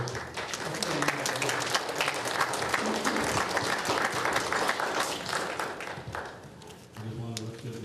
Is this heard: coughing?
no